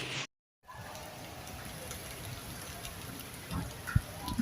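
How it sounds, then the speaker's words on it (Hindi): Light rain falls outdoors under cloudy skies as a soft, steady hiss after a brief dropout, with a few louder drips and taps toward the end. "बहुत ही हल्की-हल्की बारिश हो रही है"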